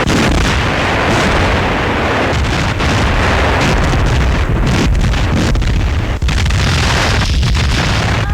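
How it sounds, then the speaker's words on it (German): A Soviet bomber hit and exploding in mid-air in a 1943 German wartime newsreel, heavy booming blasts and rumbling artillery-like bursts running continuously and loudly throughout. "Ein sowjetischer Bomber ist getroffen. Er explodiert noch vor dem Aufschlag."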